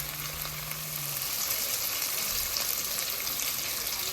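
A pot of lentil coconut soup cooks on the stove with a steady, dense sizzle and bubbling hiss, close and continuous with no talk.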